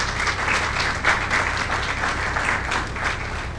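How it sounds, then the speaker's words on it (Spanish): Audience at an academic seminar breaking into sustained applause, dense even clapping from a full room that holds steady for several seconds without talk. "Recibámosla con un fuerte aplauso, por favor."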